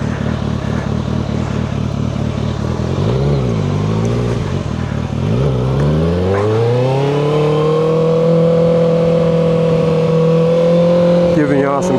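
A car drives around Memphis with its engine droning loud and close from inside, the pitch dipping, then climbing steadily as it accelerates, with a voice talking over it.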